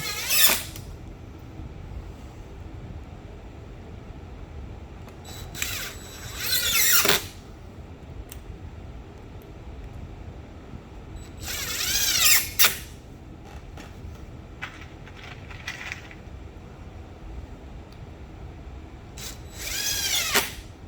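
A power drill whirs in three separate short bursts, each a couple of seconds long, with quiet gaps between them, driving 1 5/8 inch screws into pilot holes to mount a plate.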